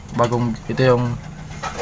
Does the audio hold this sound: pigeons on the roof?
yes